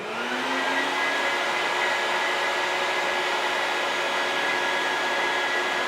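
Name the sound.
Bucket Head shop vacuum running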